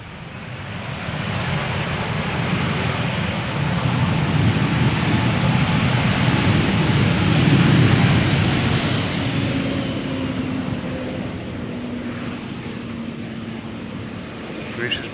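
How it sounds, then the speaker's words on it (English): A Sky Express Airbus A320neo arriving at Schiphol's Polderbaan, a broad jet roar swelling to a loud peak as it passes and then fading slowly into the distance. "A320 Neo time, Sky Express, flight 8250, arriving from Heraklion, Greece"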